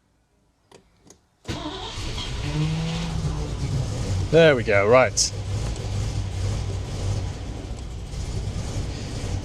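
A Range Rover Classic that has been off the road for 12 years cranks and catches, its engine running rough and revving loudly close by after a few brief attempts, while people talk briefly over it.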